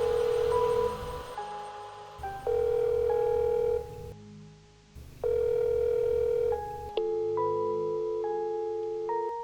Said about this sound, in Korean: 신호음은 계속 가지만 전혀 전화를 받지 않는다.